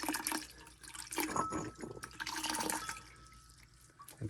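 Water gushes through a hose as sediment and rust are flushed out of a hot water tank, a close, splashy, uneven rush with drips and gurgles that swells and eases, no voices over it.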